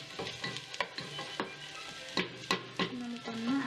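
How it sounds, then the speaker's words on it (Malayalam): Chopped beans sautéing and stirred in a pan, a steady sizzle with repeated scraping strokes of the spoon, close and moderately loud, no talking. "പിന്നെ ബീൻസ് ഒന്ന് വഴന്ന് വരുന്നത് വരെ ഇളക്കി കൊടുക്കാം."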